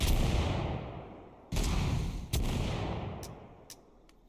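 A missile launcher fires in a video game, several sharp booming blasts, each trailing into a decaying rumble, followed by a few fainter distant shots.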